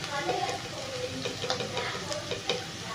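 Coriander frying in a pan with oil sizzles steadily, with a few soft stirring scrapes and ticks, close and moderately quiet, and a voice speaking lightly over it.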